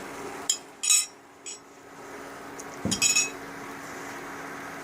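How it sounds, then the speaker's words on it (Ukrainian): Metal spoon clinking against a pot while bean and poppy seed soup with grated carrot is stirred, a few sharp scattered clinks and scrapes close by over a low background hum. "помішуємо"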